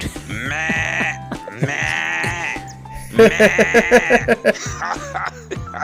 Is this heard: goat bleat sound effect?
yes